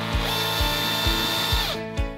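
A power drill drives screws through wooden battens into a framework, whining in one sustained run with a steady rhythmic clunk that repeats about every half second, then stops abruptly near the end, close and clear.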